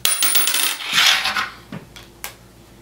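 A coin drops as a card is flicked from under it on a fingertip, giving a bright metallic clatter followed by a few smaller ringing bounces, close and clear with no talk.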